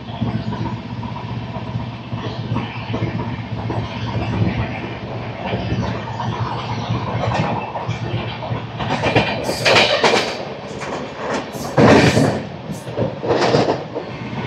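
The Howrah Mail express train runs through a skipped station, giving a continuous loud rumble and rattle of wheels and carriages with clickety-clack bursts and rushing noise, heard from aboard.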